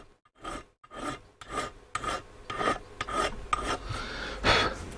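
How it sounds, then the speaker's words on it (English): A metal file rasping on the spindle of a replacement tuning capacitor for a Roberts R24 radio, about ten short rhythmic strokes, close and fairly quiet, with no talk. "Doesn't need a lot of filing."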